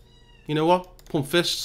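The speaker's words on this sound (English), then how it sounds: "You can hear my cat in the background meowing like a" A pet cat meows close by in two short, tonal calls with a voice speaking briefly between and over them.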